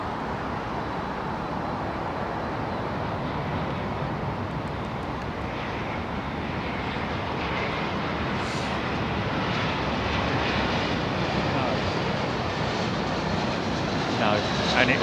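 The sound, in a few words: Etihad Airbus A380 airliner at London Heathrow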